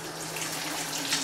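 Running water from a kitchen tap streams steadily while spinach leaves are rinsed under it, a constant close, even splashing with no talk.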